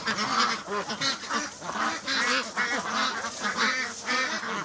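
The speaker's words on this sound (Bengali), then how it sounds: "সাদা এই হাঁসগুলো বেইজিং বা পিকিং জাতের হাঁস নামে পরিচিত।" A flock of white Pekin ducks on a village farm raised on a platform rather than a pond, quacking loudly and continuously, many overlapping calls close by with no pause.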